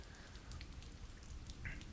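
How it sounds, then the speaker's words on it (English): Soft drizzle of rain falling on wet city pavement, a faint, steady patter with scattered light drops, quiet and even throughout with no voices. "The rain slowed down to a very soft drizzle"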